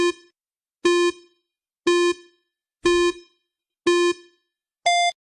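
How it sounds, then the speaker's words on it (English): A quiz countdown timer gives six evenly spaced electronic beeps about a second apart, each clear and loud against silence, with the final beep pitched noticeably higher than the rest. "Timer."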